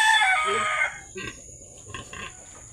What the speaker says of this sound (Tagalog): Ayan yung mga alagang manok.